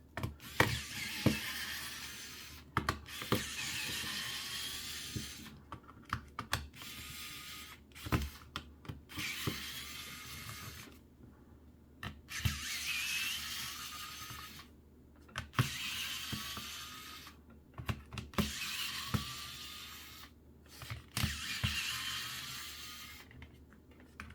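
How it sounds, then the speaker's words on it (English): Small screws being backed out of a New 3DS XL handheld console with a tiny screwdriver, producing soft repeated scraping and ticking bursts separated by short pauses, close and quiet with no talk. "once you get all the screws out"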